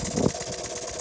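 A 1953 Jensen 50 model steam engine runs steadily in a short stretch, its mechanical chugging briefly picking up speed before settling back down, close and fairly loud with no talk.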